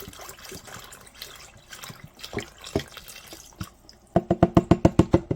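Canned beans in their liquid are dumped into a slow cooker, giving a run of wet plops and splashes that ends in a quick, loud series of sloppy glugs as the can empties. No one speaks.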